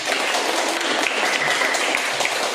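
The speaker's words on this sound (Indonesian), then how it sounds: "Mari kita beri aplaus untuk kelompok 2." Students in a classroom give a group a round of applause, a dense, lively burst of many hands clapping together up close for a couple of seconds.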